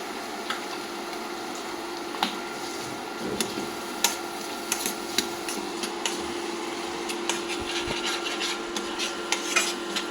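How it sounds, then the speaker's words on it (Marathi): Coconut, onion and tomato gravy sautéing in oil, with a steady soft sizzle and rasping scrapes of a spoon stirring against the pan, close and fairly quiet. "थोडी ग्रेव्ही टाकून असं परतून घ्यायचं. छानपैकी हे फ्राय होऊ द्यायचं तेल सुटेपर्यंत."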